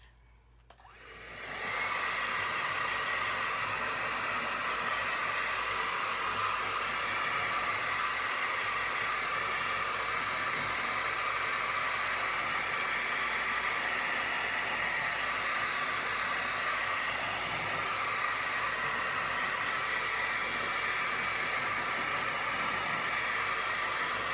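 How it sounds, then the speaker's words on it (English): A hair dryer blows steadily and loudly, a constant rushing whir starting after a brief quiet moment and holding without pause throughout. "I'm going to hit this with the hairdryer"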